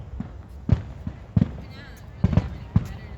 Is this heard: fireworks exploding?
yes